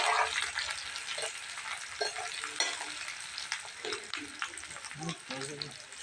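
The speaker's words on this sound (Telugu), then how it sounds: "ఇప్పుడు పచ్చిమిర్చి ఉల్లిపాయ అయితే వేసుకోవాలి ఇది కూడా బాగా ఫ్రై అయిపోవాలి" Onions and green chillies fry while being stirred in a pan, a busy close sizzle with scraping spoon strokes, while a voice speaks intermittently underneath.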